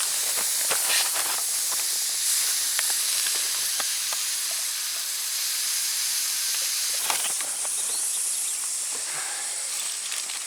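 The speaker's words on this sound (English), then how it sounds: "now we take the crawdads that have been partially boiled and we fry them on a rock" Partially boiled crawdads frying on a hot rock over an outdoor fire, producing a steady loud hiss of steam and sizzle with scattered crackles and pops throughout, close up and without speech.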